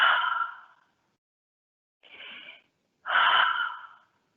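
Deep breaths drawn during a guided yoga stretch, three slow airy exhalations and inhalations close to the microphone, separated by brief silences.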